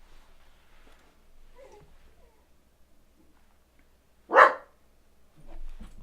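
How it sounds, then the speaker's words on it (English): A single loud dog bark rings out in a quiet room, a short sharp burst standing alone, with faint low murmurs and a soft thump before it and another duller sound shortly after. "We'll be back when the dog is done barking."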